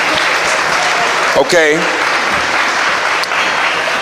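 Audience applause at a presidential candidates forum in Selma, steady and loud throughout, while someone briefly speaks over it.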